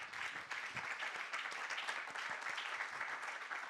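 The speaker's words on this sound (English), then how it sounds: "I had to put my microphone down to clap" An audience claps steadily after a speaker at a talk on social and environmental progress, a dense crackle of many hands that stays loud and even for the whole stretch, with no voices over it.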